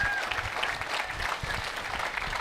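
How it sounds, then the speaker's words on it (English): An audience at a live eLearning improv show claps steadily, a dense, even wash of applause holding at one level throughout with no voices above it. "Take it away, Jeff, but we need you to give us a round of applause as Andrew and I actually leave the room."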